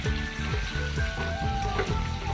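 Meat sizzles in oil in a pan, a steady close frying hiss with the rhythmic scrape of stirring, heard alone without talk.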